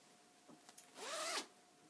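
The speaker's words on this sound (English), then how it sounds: "And then this one has a little heart zipper to match the fabric." A small heart-shaped zipper on a fabric bag pulled closed in one quick stroke, preceded by a few small clicks and rustles, close and fairly quiet.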